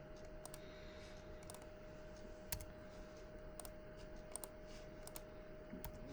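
Quiet room tone with a faint steady hum, broken by a handful of soft, scattered keyboard clicks at irregular intervals.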